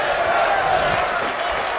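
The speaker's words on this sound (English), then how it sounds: "Listen to this crowd. This crowd firmly behind Lilith Vandiver right now." Dense arena crowd roaring and cheering without a break during a women's wrestling match in WWE 2K22, a steady, full wash of noise from many voices.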